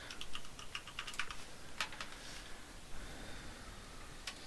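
Quiet keystrokes on a computer keyboard as a short password is entered, a scattered run of light clicks over a faint background hiss, with no voices.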